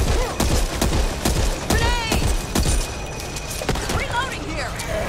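Controlled gunfire bursts in Back 4 Blood: a rapid series of sharp shots in short bursts with ricochet whines, loud and close, with voices speaking over the action.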